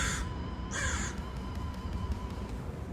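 A crow caws twice in quick succession, harsh and fairly clear, over a steady low outdoor rumble with no talking.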